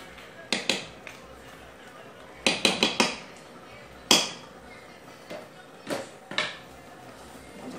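Spoon scraping and knocking against a pan while peanut brittle is stirred, a series of sharp clinks and scrapes in irregular bursts, fairly close and moderately loud, with no talk over them.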